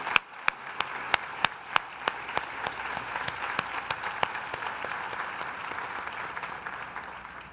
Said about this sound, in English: let's have a rousing round of applause for all of these very generous and steadfast supporters